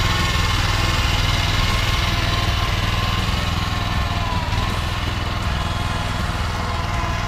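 A small-engined walk-behind Kubota rice transplanter runs continuously at close range, a steady buzzing engine drone with no pauses.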